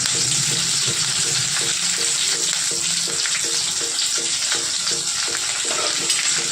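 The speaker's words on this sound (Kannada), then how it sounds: "ಈ ರೀತಿ ಎಣ್ಣೆಗೆ ಹಾಕಿ ಫ್ರೈ ಮಾಡ್ತೀನಿ ರೀ ಮೊದಲಿಗೆ ಈರುಳ್ಳಿ ಪೂರ್ತಿ" Onions fry in oil in a pan with a loud, continuous close-up sizzle, marked by a regular rhythmic pulse of stirring or scraping.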